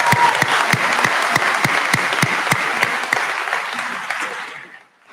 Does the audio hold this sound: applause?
yes